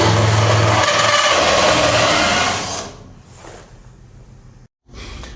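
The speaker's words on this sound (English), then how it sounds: "Time to drill some holes." A power drill whines loudly and steadily for a few seconds, then cuts out, leaving quieter room noise and a brief pause.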